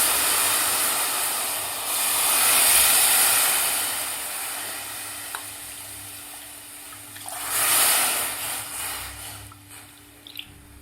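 Four cups of water poured into a pot holding cracked wheat for wheat kheer, a broad rushing hiss that swells twice, with quieter stretches between the pours.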